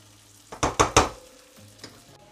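Dried oregano frying in oil in a pan is stirred, three quick loud scraping sizzles in a row followed by a fainter fourth stir.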